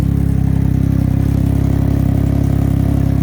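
A Can-Am Ryker three-wheel motorcycle engine idles steadily up close, a constant low throbbing rumble with no change in pace and no talking over it.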